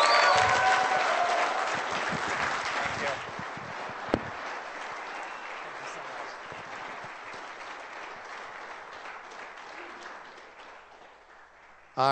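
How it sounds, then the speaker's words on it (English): Audience applause at a live comedy show, a loud burst of clapping and crowd noise that tapers over about twelve seconds into a faint, fading patter, with a sharp knock near the middle. "Everybody give Abby a round of applause."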